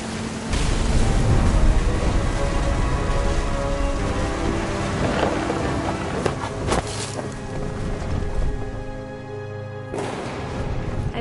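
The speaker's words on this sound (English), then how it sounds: "The thunder sounded much too close and full of angry power" Thunder and rain in the video game What Remains of Edith Finch: steady heavy rainfall hisses throughout, broken by low rumbling thunder and a couple of sharper cracks, loud and close.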